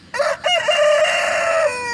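A rooster on a backyard farm crows one loud, close call that rises, breaks briefly, then holds a long, strained note before cutting off, alone with no talking.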